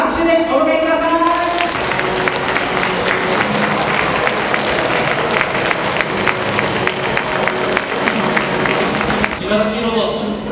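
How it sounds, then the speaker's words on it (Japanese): Steady applause from an audience at an aquarium welcoming a professional basketball player, sustained clapping throughout with a voice speaking over it near the start and end. "谷口選手が登場しますので拍手でお迎えください。"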